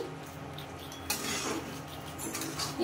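Chicken kosha is served into dishes, with close clinks and scrapes of a metal spoon against pots and plates, then a sharper clatter of utensils partway through.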